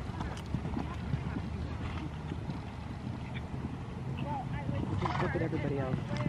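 Horse hoofbeats in a steady clip-clop gallop rhythm during riding practice, continuous and close, with people talking and background chatter over the top throughout.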